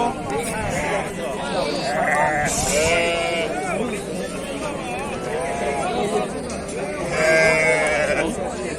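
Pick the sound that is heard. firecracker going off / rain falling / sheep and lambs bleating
sheep and lambs bleating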